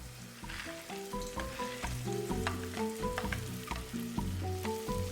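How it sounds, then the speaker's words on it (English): Fried potatoes and mangoris stirred into a spiced pan for moong dal badi sabji, a steady close sizzle with scraping stir sounds, while music plays underneath. "Stir this in. Add the fried potatoes to this and the fried mangoris."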